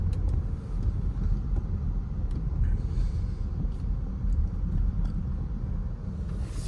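A 2024 Infiniti QX60 SUV drives along, giving a steady low road and engine rumble heard from inside the cabin, continuous and fairly loud with faint clicks on top and no talking.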